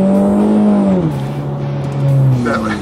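A turbo-upgraded Ford EcoBoost Mustang with methanol injection drives under load, its engine a loud, steady harmonic drone that drops in pitch about a second in, then climbs and falls again.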